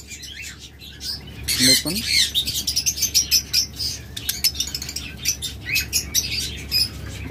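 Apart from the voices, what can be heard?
caged pet birds chirping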